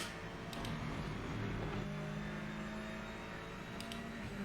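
A steady A110 Cup race car engine drone in the video game Project Motor Racing holds at a constant pitch throughout, with a faint whir layered over it and no voices.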